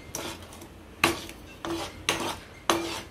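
Spoon stirring sugar into a milk sweet (paal kova) in a pan: five distinct scraping, clinking strokes against the metal, close and fairly quiet, with pauses between.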